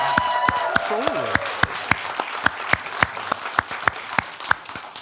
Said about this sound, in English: you can clap again for Rob.